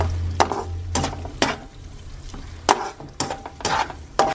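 Butter melts in a pan for carbonara while a utensil stirs it, several sharp scraping strokes clattering against the pan over a soft, steady sizzle, close and loud.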